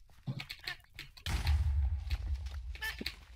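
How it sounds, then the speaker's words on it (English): TNT blows up in the Minecraft video game: a sudden booming blast lands partway through and its rumble lingers, while players talk quietly over game sounds before and after. "TNT explosions are pretty fun."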